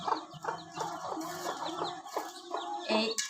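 A broody hen with newly hatched naked-neck chicks clucks in low, repeated bursts while the chicks cheep in thin, high peeps close by, with no voices.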